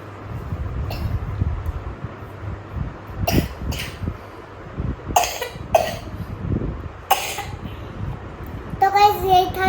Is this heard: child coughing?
yes